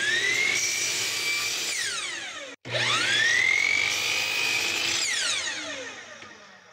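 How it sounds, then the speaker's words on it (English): A miter saw fitted with a zero clearance insert cuts wood frame parts: two loud, close whining passes, each winding up, biting through the wood and spinning down, with a brief silence between them. "that gave me a chance to try out my new zero clearance insert for the miter saw"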